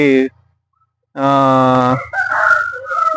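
A rooster lets out a loud, drawn-out crow after a short burst of calling, followed by rougher squawks and clucking from nearby fowl.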